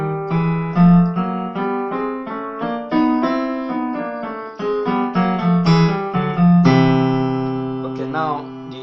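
Piano ditones step chromatically in a steady series of struck chords, each ringing briefly before the next, ending on a longer sustained chord; loud and close with no talking.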